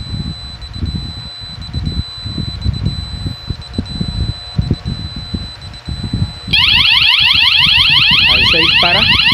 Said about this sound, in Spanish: la alarma se va a disparar